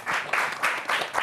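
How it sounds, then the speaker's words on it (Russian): A studio audience on a Gomel evening television show claps briefly in a rhythmic, pulsing pattern, loud and close, for just over a second. "Вам аплодисменты."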